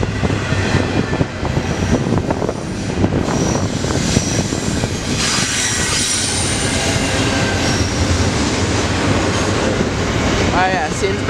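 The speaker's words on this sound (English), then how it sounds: "this freight train." A CN freight train rolls past close by, a loud continuous rumble of railcars and wheels with high squealing tones rising near the end.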